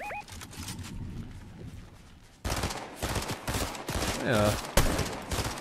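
Rapid bursts of gunfire in the video game Fortnite, with distant shots early and louder repeated volleys later, under casual German talk from a player.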